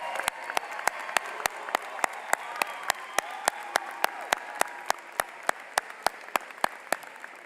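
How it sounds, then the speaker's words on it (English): At a high school commencement, a crowd applauds steadily with dense clapping beneath, while a sharp, regular, metronome-like tick cuts through roughly three times per second from start to finish. "Let's give them a big round of applause."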